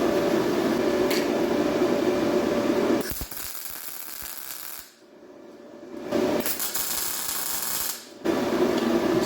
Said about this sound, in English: let's go ahead and tack it into the 3 spots that we can get to